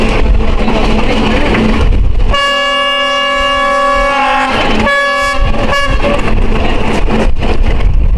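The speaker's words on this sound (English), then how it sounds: "That is not the sound of a healthy train horn." Unhealthy-sounding Albanian train horn blares loud and near in one long, wavering blast, then sputters in several shorter broken toots over the rumble of the moving train.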